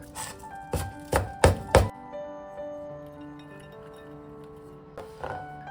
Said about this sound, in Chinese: 一把香葱切成葱花